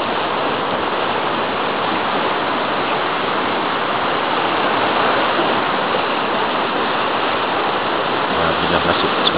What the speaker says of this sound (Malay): air keruh akibat daripada hujan mungkin tengah hari tadi, dan dia turun membawa air yang